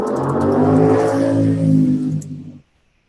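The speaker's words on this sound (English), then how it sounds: "Muscle cars going past." Muscle cars roar past loudly, engines revving in a sustained throaty rumble for over two seconds before cutting off abruptly into silence.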